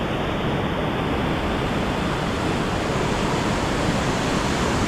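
Loud, rushing river water roars continuously and close by beneath a bridge after heavy rain, a dense unbroken torrent of noise with no voices.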